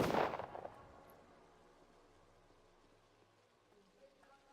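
Gunfire in the video game Pathologic: one loud burst of shots at the start, then a fading tail and faint background noise. No one talks.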